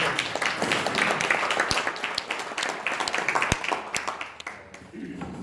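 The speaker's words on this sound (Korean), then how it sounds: "박인철 의장님한테 박수 한번 주세요." An audience claps for the chairman at a Lions Clubs International District 355 Lions Quest promotional briefing: dense, sustained applause with a few sharp individual claps and some voices mixed in, thinning near the end.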